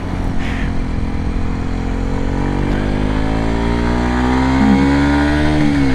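A Kawasaki Ninja 125 fitted with a Scorpion slip-on exhaust accelerates hard through the gears, its engine note climbing steadily in pitch, loud and close throughout.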